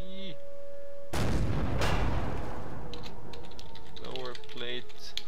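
A tank cannon in a video game fires a high-explosive shell, a single loud broadband blast with a decaying rumble, followed by a second burst and then a speaking voice over the game noise.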